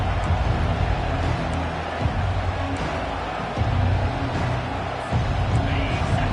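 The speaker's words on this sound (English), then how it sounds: "This crowd bringing an ear-splitting welcome to their visitors." Stadium crowd in College Football 25 roars in a dense, continuous wash of cheering and babble, loud and sustained, with a few brief dips in level.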